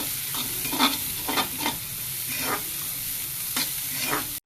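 Chopped onions and fennel seeds fry in oil for an egg masala while being stirred: a bright, continuous sizzle close up with a few soft scrapes of the spoon.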